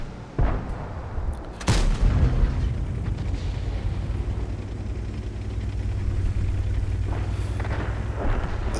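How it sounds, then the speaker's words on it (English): Tank destroyer cannon fire in the World of Tanks game: two sharp, heavy booms close together early on, followed by a rumbling battle backdrop and fainter distant shots. "he's doing the odd blind shot as well"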